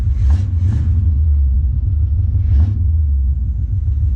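A classic Camaro's engine rumbles deep and steady close by, with a couple of short throttle blips rising over the low idle.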